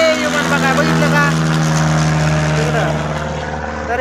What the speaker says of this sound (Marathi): विमान बघा बघितलं का